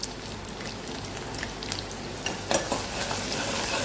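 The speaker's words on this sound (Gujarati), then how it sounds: "અહીંયા આપણે લસણ અને આદુ મરચાંની પેસ્ટ ઉમેરી દઈશું" Garlic, ginger and chili paste spits and crackles in hot oil, a dense continuous sizzle with sharper pops scattered throughout.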